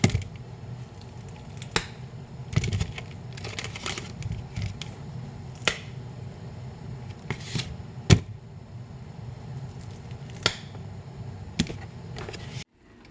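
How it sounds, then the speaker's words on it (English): Cleaned ears of corn snapped in half by hand in a home kitchen while preparing a Cajun shrimp boil: a handful of sharp, crisp cracks at irregular intervals over a low, steady background. "Okay, I have some ears of corn. They've already been cleaned. I just need to break them in half."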